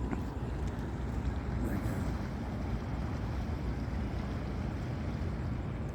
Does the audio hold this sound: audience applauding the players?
no